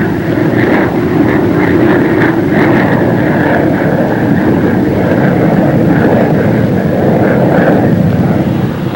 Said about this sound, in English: the pilot puts the plane into a shallow dive in order to bring it home with even greater speed